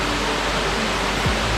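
Waterfalls at Las Toscas in Sot de Chera, a steady broadband rush of falling water that holds even and continuous throughout, close and fairly loud, with no voices.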